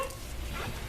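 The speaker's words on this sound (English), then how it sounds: "That was barking." Pet dogs barking and whimpering in excitement just before feeding time, a short burst of close, yappy calls over a low rumble of background noise.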